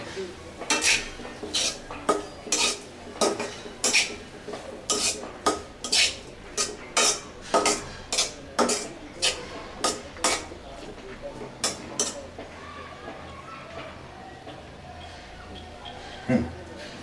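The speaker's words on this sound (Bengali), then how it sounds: "একটু চিনি লাগবে আরও একটু চিনি সেটা দিয়ে একটু নেড়ে দেবো" A metal spoon stirs a sweet pumpkin fry with black cumin and sugar in a pan, giving a steady run of sharp clinks and scrapes about every half second that thin out toward the end.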